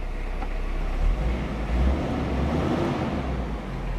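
A 1987 Toyota Town Ace turbo diesel 4x4 idling: a steady, quiet low rumble of the engine with faint throb, heard from close by without talk.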